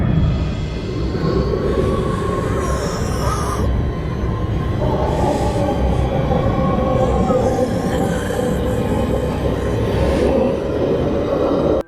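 Steady, loud rumble of a moving train in a Harry Potter film, with rattling wheels and a faint metallic whine running throughout, no talking.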